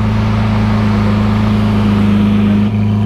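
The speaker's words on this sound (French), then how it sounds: "le bruit, le son d'une Lamborghini Aventador LP704" Lamborghini Aventador LP700-4 V12 engine and exhaust idling nearby in a Cannes street, a steady deep resonant rumble with strong low hum, continuous and loud, with a slight dip near the end.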